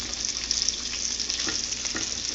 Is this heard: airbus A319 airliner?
no